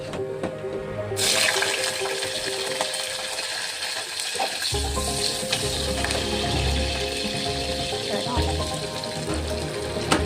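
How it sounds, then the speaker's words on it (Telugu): Cumin, mustard seeds and green chilies hitting hot oil for a coconut-tomato curry: a loud, bright sizzle bursts in suddenly and crackles on steadily up close, with a voice audible in the background. "అది హీట్ అయిన తర్వాత జీలకర్ర లైట్గా ఆవాలి. తర్వాత దాంట్లో మిర్చి"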